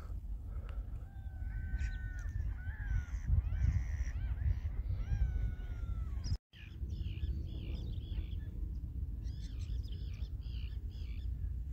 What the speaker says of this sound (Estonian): Ja taas igasugused huvitavad eksootilised linnuhääled.